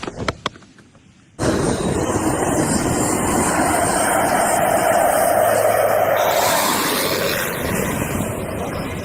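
A Pilatus PC-12 turboprop airplane engine roars in, loud and sustained after a brief quieter start with a few clicks, then holds a steady droning whine before easing slightly toward the end.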